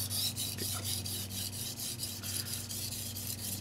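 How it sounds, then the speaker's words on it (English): A Tojiro Japanese kitchen knife is drawn across a whetstone in a quick, regular series of close rasping strokes, each a short gritty scrape of steel on stone, with no voices. "That's a sign that the stone is grinding this steel very well"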